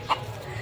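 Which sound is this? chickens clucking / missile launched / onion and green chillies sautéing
chickens clucking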